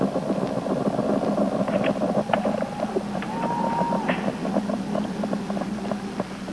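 Space Shuttle Columbia's engines during the STS-4 launch near max Q and throttle-up: a steady, broad distant roar with wind-like rushing and faint tonal whistles, continuous and unbroken, with no talking.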